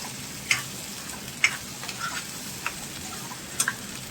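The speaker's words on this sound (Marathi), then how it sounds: "व्यवस्थित त्याला फ्राय करूया" Prawn masala with chilli powder and green chillies frying in a pan, giving a quiet, steady sizzle broken by a few sharp pops and a spoon scraping and stirring now and then.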